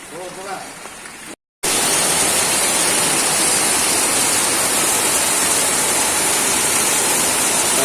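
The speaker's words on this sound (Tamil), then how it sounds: "கடுமையான மழைங்க." Heavy rain pours down with running water in a town, a loud, continuous broadband roar after a brief cut, with faint voices in the first moments.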